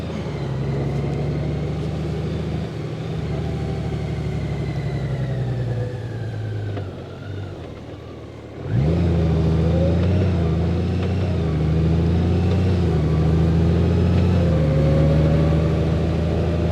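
A 2021 Honda Gold Wing DCT motorcycle engine hums steadily while riding through the back roads of San Diego's Carmel Valley toward Rancho Santa Fe, with a brief dip as the tone shifts, then a firmer, stronger drone.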